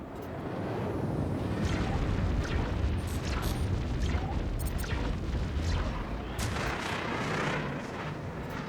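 A hostile ship blowing up in the space game Star Citizen, a heavy rolling explosion with deep rumbling booms and crackling bursts, loud and sustained for several seconds before fading.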